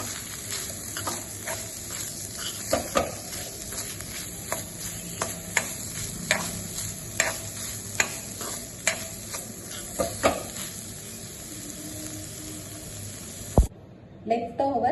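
Spoon stirring leftover chicken and egg gravy seasoned with salt and pepper in a pan, soft steady sizzle with regular scraping strokes, close, ending in a sharp knock and a brief burst of noise.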